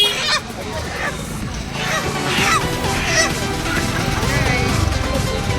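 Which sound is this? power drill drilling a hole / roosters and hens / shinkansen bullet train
roosters and hens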